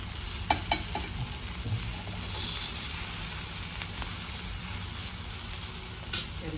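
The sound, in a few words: elephant yam kababs being flipped and fried in a pan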